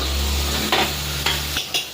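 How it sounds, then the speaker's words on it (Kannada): Spoon stirring puliyogare powder into a hot tempering in a pan, a steady sizzle with a few distinct scraping strokes, close and fairly loud, with no talking. "ಒಗ್ಗರಣೆ ಎಲ್ಲ ಪೌಡ್ರ್ ಹಾಕಿ ಮಿಕ್ಸ್ ಮಾಡಿದ್ದೀನಿ"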